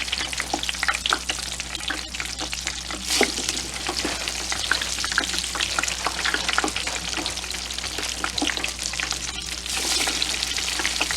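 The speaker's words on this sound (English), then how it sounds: "we're going to deep fry some fries in the middle of my cooking video" French fries deep frying in hot oil at home, a steady dense crackling sizzle with bubbling pops running continuously and loud throughout, with no voices.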